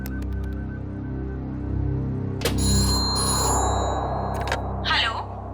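A phone rings repeatedly in short electronic bursts during an outgoing call, heard close and fairly loud over a low background hum, with a brief voice near the end.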